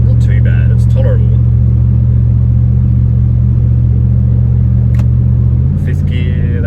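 A Nissan Y62 Patrol fitted with a Manta cat-back exhaust cruises at 100 km/h in fifth gear on a freeway, giving a steady, loud low drone with road rumble throughout and a slight change in tone near the end.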